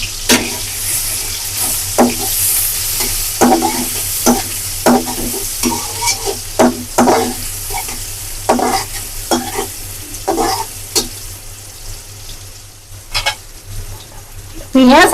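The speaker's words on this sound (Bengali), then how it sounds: "এখন একটা পেঁয়াজ কুটে তেলের উপর দিয়ে দিলাম।" Chopped onion sizzling in about a cup of hot oil for a Sundarbans fish curry, a steady frying hiss with repeated stirring scrapes and clinks, close and fairly loud, with no voices.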